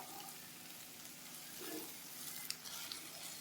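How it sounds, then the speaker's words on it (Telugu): Faint stirring of idli pieces and vegetables in a pan over a soft sizzle, with light scraping and a few small clinks of the utensil near the end. "ఇలా బాగా ఈ ఇడ్లీ ముక్కలు, వెజిటేబుల్స్ అంతా బాగా కలిసేటట్టు మిక్స్ చేసుకోండి"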